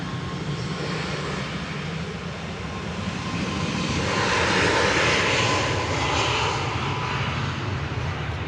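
Airbus A340 jet airliner at Manchester Airport, a broad steady roar of engines that swells in the middle and then holds, heard alone at a distance with no voices.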